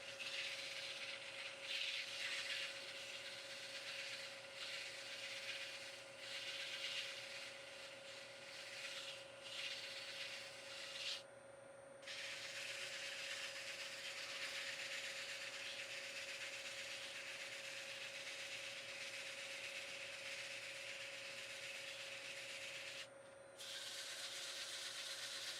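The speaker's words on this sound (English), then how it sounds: "Now that I'm all done shaping the inside of the lid, I'm sanding it" Sandpaper rubs against the inside of a turned wooden box lid spinning on a lathe. The result is a steady, close hiss over a constant motor hum, with two brief pauses.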